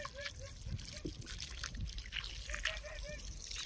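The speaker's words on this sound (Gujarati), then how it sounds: "કોકોપીટ ધોવાનું કામ ચાલુ છે" Water trickles and drips steadily while cocopeat is washed outdoors on a farm, a faint, continuous splashing with a few bubbly gurgles and soft background noise.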